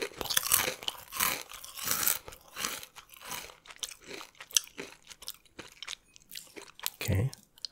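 Spicy chips being crunched and chewed up close in a soft-spoken eating setting, with repeated crisp bites and wet chewing bursts spread through the stretch, some faint murmuring in between.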